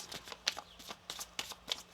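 Tarot cards being shuffled by hand, a rapid series of crisp papery riffles and taps repeating in short bursts, quiet and close.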